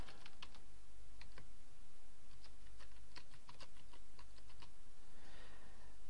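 Rapid, uneven keystrokes on a computer keyboard while a username and password are entered, crisp clicks in short bursts over a steady low hum.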